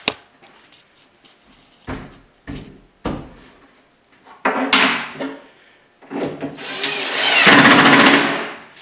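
An applied end panel being screwed onto the side of a kitchen cabinet: a few sharp knocks and taps, then loud bursts of a power driver whirring, the longest near the end.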